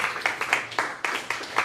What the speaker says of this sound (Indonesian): Berikan tepuk tangan buat Yesus